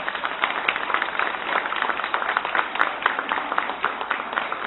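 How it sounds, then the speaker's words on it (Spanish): An audience at a Secretaría de Educación results presentation gives a sustained round of applause for the school construction staff, a steady wash of many hands clapping throughout without letting up. "Démosle un fuerte aplauso a los compañeros de construcciones escolares"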